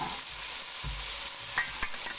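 Four chopped, washed potatoes frying in a pan for an aloo shimla mirch dish, a steady bright sizzle with a few soft clinks and scrapes of stirring.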